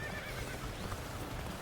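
Horse in the Dynasty Warriors Origins video game, a loud neigh and whinny with clip-clopping hooves under a steady game background, no talking.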